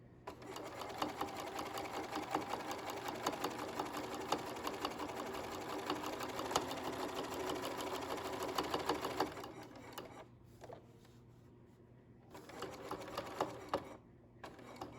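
A sewing machine runs steadily while stitching a box seam on a handmade zipper pouch, its rapid mechanical chatter continuous for about nine seconds, then pausing briefly before a second short burst of stitching near the end.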